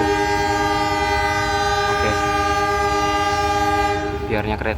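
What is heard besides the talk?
train departing with horn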